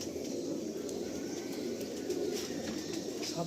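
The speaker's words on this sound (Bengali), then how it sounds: "সেই ইকবাল স্যারের হাতে তৈরি এক সেট আবলুক পায়রা আপনারা দেখছেন" Abluk pigeons coo softly in low, repeated murmurs against a faint background hum, with a few light rustles and flutters nearby.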